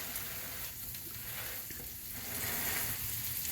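Burger patties sizzle loudly and steadily on a hot cooking surface, a dense continuous crackle that swells slightly toward the end, with no voices.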